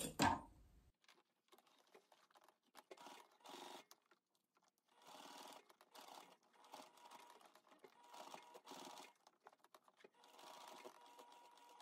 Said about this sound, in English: I'm gonna go sew around this.